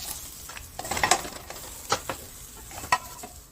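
Food frying and being stirred in a pan on medium heat, with a soft sizzle and several scraping stir strokes at irregular moments, close by and moderately quiet, with no talking.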